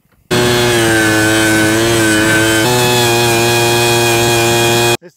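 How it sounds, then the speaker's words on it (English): A loud, steady motorized drone with a strong buzzing tone from a power drill boring holes in the ground runs nonstop for about five seconds, shifting pitch slightly midway, then cuts off abruptly. "It's time to start the drilling."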